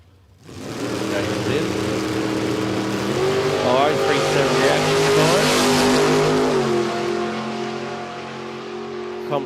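A drag racing car makes a run at Sydney Dragway, its loud engine roaring and building as it accelerates down the strip before easing off, with a commentator talking over it throughout.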